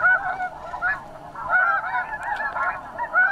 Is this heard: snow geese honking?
yes